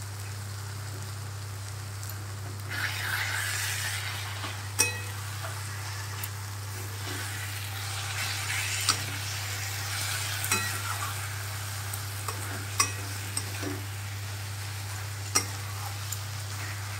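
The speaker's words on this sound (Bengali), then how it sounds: "এবার আমি আদার পেস্টটাকেও দিয়ে দেবো।" Ginger paste sizzles in a chicken curry pan and is stirred, a soft steady frying hiss broken by occasional scrapes and taps of the spoon over a low constant hum.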